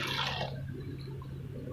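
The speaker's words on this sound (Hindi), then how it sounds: "1 गिलास पानी डाल देंगे इसमें।" A glass of water squeezed from grated pumpkin is poured into masala cooking in a pan for kaddu kofta. There is a brief, bright splash in the first half second, then a low steady hum.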